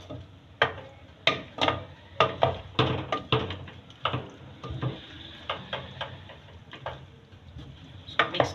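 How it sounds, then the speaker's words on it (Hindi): A spoon stirs and scrapes spices into tomatoes in a pan for chutney, giving repeated sharp metallic clinks and scrapes in an irregular rhythm, close and moderately quiet, with no talking. "मिक्स कर देते हैं अच्छी तरह से मसाले को टमाटर में।"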